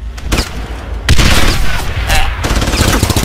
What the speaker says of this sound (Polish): Ojej, słychać strzały.